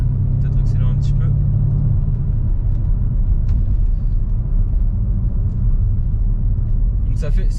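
A Porsche Cayenne V8 biturbo SUV, weighing around 2.3 to 2.4 tonnes, gives a steady low engine rumble and road drone throughout as it accelerates, heard from inside the cabin.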